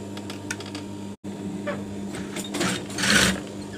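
A sewing machine stitching a flower-shaped pillow runs in short quiet bursts of rapid mechanical chatter, with a brief pause early on and a louder stretch near the end.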